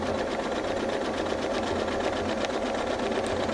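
A sewing machine does ruler-guided free-motion quilting, its needle running in a steady, loud, close mechanical hum and rapid clatter that stays constant throughout, with no voices.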